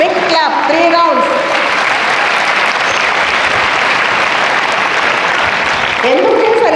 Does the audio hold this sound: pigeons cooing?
no